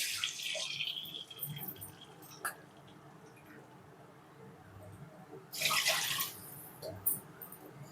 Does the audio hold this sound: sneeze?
no